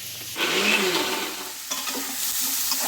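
Chopped onions frying in a pan for a pumpkin palya hiss in a steady, close sizzle that swells briefly when they are stirred. No one speaks.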